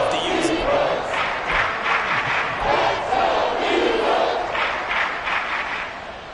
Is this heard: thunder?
no